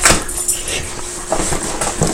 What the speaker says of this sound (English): See my dog over there next to my mom is trying to eat the cardboard.